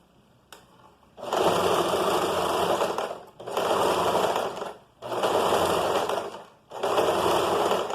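Sewing machine stitching a cuff closed near its edge, running in four loud steady bursts of a couple of seconds each, separated by short pauses, close up with no talk.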